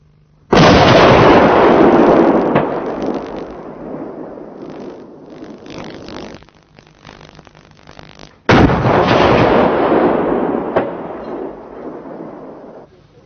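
Two heavy booming cannon shots from a 40mm L70/B Bofors on a CV90 fire during a 1992 test. Each loud blast rolls into a long rumbling echo, and the second comes about eight seconds after the first.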